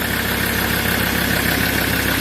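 A Mazda BT-50 or Ford Ranger pickup engine idles during an automatic transmission flush, a steady, continuous low rumble with an even mechanical hum and no voices.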